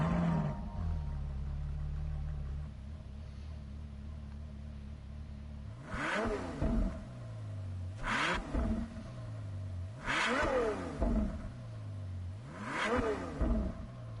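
Stock Ferrari Superfast engine in Gran Turismo 7 idling, then revved four times in quick sharp bursts, each rising and falling, loud and close with no talk.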